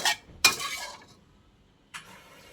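Basil shrimp stir-fried in a pan, heard as a sharp scrape and sizzle burst at the start, a longer sizzling stir with clinks, then a quieter pause before another stirring burst, close and without talk.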